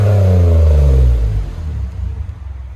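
2013 Toyota Highlander 3.5L V6 with dual exhaust and muffler delete revs loudly up close, then the deep exhaust note drops and settles to a rumbling idle, no voices.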